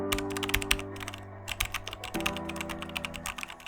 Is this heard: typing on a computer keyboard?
yes